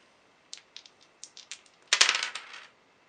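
Dice rolled for a Memoir '44 board game: a few light clicks as they are shaken, then a sharp rattling clatter as they tumble and settle on the table, close and fairly quiet, with no talk.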